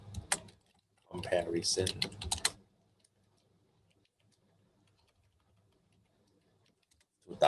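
Faint, sparse keystrokes on a computer keyboard as a chart title is typed, following a short stretch of talking, in a quiet room.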